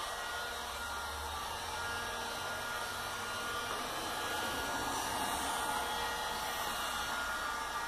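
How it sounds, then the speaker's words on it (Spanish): A handheld hair dryer blows hot air steadily onto the rubber door gaskets of a refrigerator, a constant close whooshing roar lasting the whole stretch with no speech. "con un secador de pelo."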